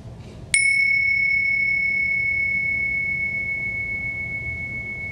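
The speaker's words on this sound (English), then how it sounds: "I'll just ring some bells" A single meditation bell strike rings out clearly, then sustains a pure, steady tone that fades slowly over several seconds against faint background hum.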